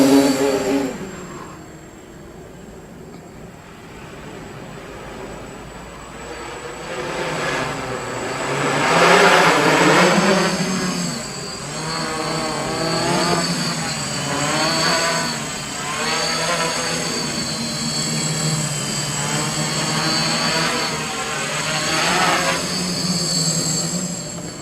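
A KK2 quadcopter flies with a steady high-pitched motor whine that swells and wavers as it maneuvers, then comes down for a rough landing, loud and continuous without talk.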